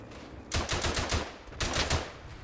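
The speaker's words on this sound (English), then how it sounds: "Opening fire with a machine gun." Machine gun fire from the World War I shooter Verdun, two bursts of rapid, loud, closely spaced shots separated by a short pause.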